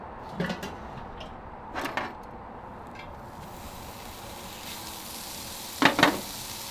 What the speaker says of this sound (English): our first ingredient is going to be bacon